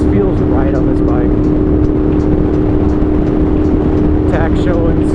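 A Honda GL650 motorcycle cruises at about 63 mph at just under 5,000 RPM. Its engine hums as a loud, steady drone with wind rush throughout and no changes in pitch.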